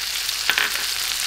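Butter sizzles and fries in a pan with cod fillets, a steady close crackle with a brief spatter burst partway through.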